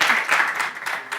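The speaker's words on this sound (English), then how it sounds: "Maybe we can applaud." Applause from a seminar audience, a steady wash of many hands clapping for about a second, moderately loud and without speech.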